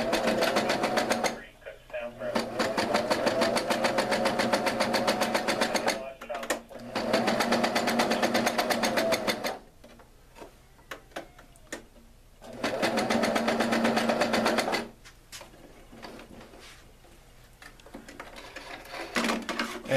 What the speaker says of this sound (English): Get the needle down and start sewing.